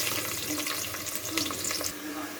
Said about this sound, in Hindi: ये एक देचकी में मैंने ऑयल ले लिया और इसमें सबसे पहले प्याज ब्राउन करती हूँ।